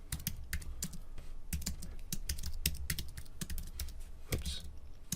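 Typing on a computer keyboard during coding, rapid irregular clicky keystrokes close to the microphone in short bursts with brief pauses, no talk.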